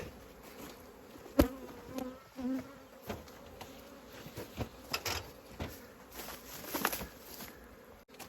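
Honey bees buzz around an open hive in a colony that has lost its queen and begun laying humped drone brood, a steady close hum with scattered knocks and handling sounds, no talk.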